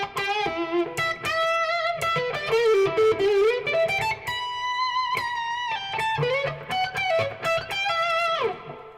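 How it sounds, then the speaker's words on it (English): An electric guitar plays through reverb for a vintage feel, with melodic lines and sustained notes that ring out and trail off, heard alone and close. "the reverb also allows me to bring in a little bit of a vintage vibe."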